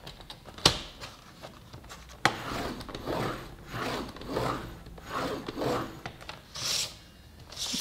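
Scoring a fold line in paper on a punchboard for a milk-carton gift box, close rasping strokes repeated in a rough rhythm, opened and punctuated by a few sharp clicks.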